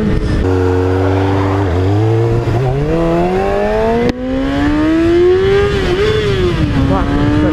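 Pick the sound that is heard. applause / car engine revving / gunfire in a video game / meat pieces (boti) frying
car engine revving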